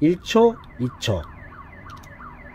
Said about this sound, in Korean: 앰뷸런스 소리가 들려서 좀 미안하긴 합니다.